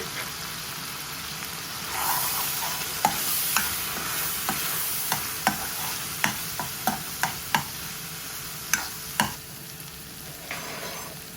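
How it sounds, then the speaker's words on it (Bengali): Rupchanda fish with coriander powder, green chili and spices being stirred and sautéed in a hot pan: a steady sizzle with a string of sharp spatula scrapes and clacks against the metal, close and alone with no talk. "মাছটা দিলাম এখন মশলার লগে মাছটা কষানিয়ে নেব"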